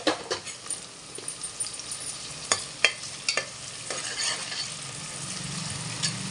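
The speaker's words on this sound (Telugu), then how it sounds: "ఉల్లిపాయలు వేసేస్తున్నాను ఉల్లిపాయలు వేగుతున్నాయండి" Onions fry in oil in a pan for mutton curry, a soft crackling sizzle broken by a few sharp stirring scrapes and clatters, close and moderately loud.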